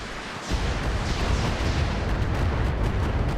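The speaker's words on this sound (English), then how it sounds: "We're going to continue to fire on that Yellow Jacket" Weapon fire in the mech combat game RogueTech swells into a loud, continuous barrage of booming, crackling blasts that lasts a few seconds without letting up.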